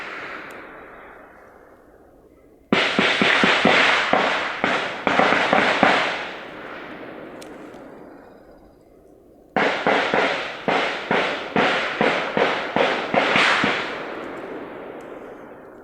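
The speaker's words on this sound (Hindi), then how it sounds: "किस तरह से गोलियों की तड़तड़ाहट यहाँ पर सुनाई दे रही है।" Gunfire crackles in two long bursts during a recorded armed encounter in Sukma, rapid cracking volleys each lasting several seconds with fading reverberant tails between them, loud and alone with no talk.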